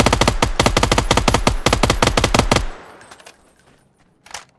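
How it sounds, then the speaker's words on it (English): Rapid burst of automatic fire from a new submachine gun in the PUBG battle royale game, loud and close, a steady stream of sharp shots for over two seconds that cuts off abruptly into quiet ambience with a faint later thump. "That's the new SMG."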